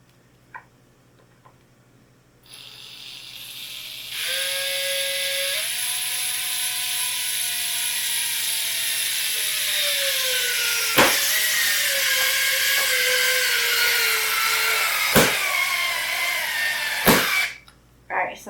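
A DeWalt 12V subcompact screwdriver drives a 2.5 inch screw with a steady whining motor that slowly drops in pitch under load, broken by a few sharp clicks before it stops short.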